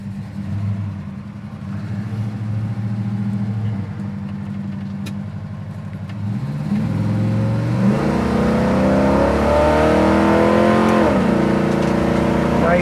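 A 1969 Chevelle with a new crate engine drives along, its engine note droning and climbing with rising and falling pitch through gear shifts, loud and close throughout.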